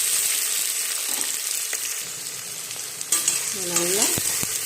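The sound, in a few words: onions and masala sautéing in a pan for chicken biryani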